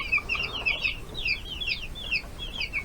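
Naked neck and broiler chickens on a small farm cluck steadily in a close, continuous chorus of short, repeated calls over faint low background noise, with no talking.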